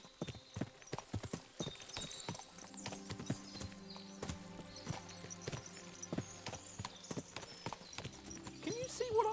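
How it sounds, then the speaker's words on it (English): Many horses clip-clopping in the medieval video game Kingdom Come: Deliverance 2, a steady overlapping patter of hooves on hard ground, moderately close, with an occasional whinny and no talking. "What a lot of horses!"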